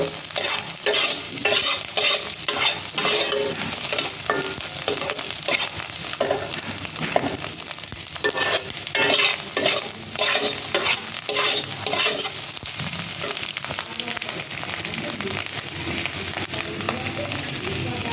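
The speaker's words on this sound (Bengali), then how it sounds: "নাড়াচাড়া করে নিব" A potato dish frying in a pan is stirred continuously, with repeated scraping strokes over a constant loud sizzle, close and busy for the whole stretch without speech.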